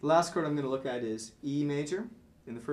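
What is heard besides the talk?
No everyday noises stand out.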